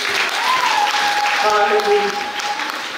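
Church congregation clapping during a Lutheran worship service, a steady wash of many hands sustained throughout while a voice calls out over it.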